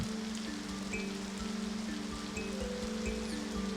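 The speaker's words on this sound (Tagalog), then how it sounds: "Sa gitna ng malakas na ulan, nanginginig si Tipaklong." Steady, dense rain falls on surfaces, a continuous close patter with no pauses, and no voices.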